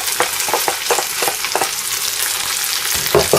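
Spices for a lamb curry fry in a pan over caramelising onions, a loud, bright sizzle broken by rhythmic scraping strokes as they are stirred around, close up, with no speech.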